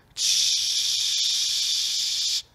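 A beatboxer's mouth imitates a bathroom sink tap running: one steady, close hiss of rushing water that starts abruptly, holds evenly for about two seconds, then cuts off sharply, with no talking.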